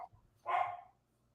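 A single short dog bark, fairly close and clear, rising out of a quiet room with faint low background noise and no talk over it.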